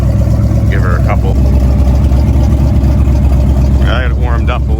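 A cammed 8.1 Vortec engine with a full 304 stainless exhaust and Taylor 409 ignition wires rumbles loud and close at a steady, lopey idle, with a couple of brief rises in pitch and a voice speaking over it.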